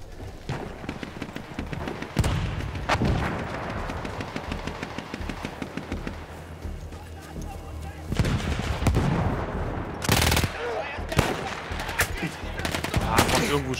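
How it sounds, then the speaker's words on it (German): Gunfire crackles across a World War I battlefield in Battlefield 1, rapid bursts of rifle and machine-gun shots at varying distance, with louder volleys near the end amid distant battle noise. "von irgendwo schießen die wieder"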